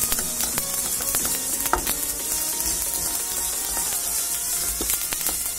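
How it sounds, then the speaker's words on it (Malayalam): Mustard seeds and fenugreek crackle and sizzle in a very hot pan, a steady frying hiss dotted with sharp little pops and stirring scrapes, close and continuous with no talking. "നമ്മൾ കടുകൊക്കെ ഉലുവയൊക്കെ നന്നായി പൊട്ടി പൊരിഞ്ഞു വരുന്നുണ്ട്"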